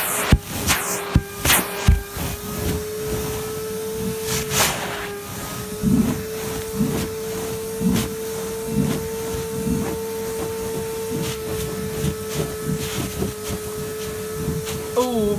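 An ordinary household vacuum cleaner sucks up water during a cleaning job, a loud steady whine with gurgling, sloshing bursts and clunks, running alone with no talk.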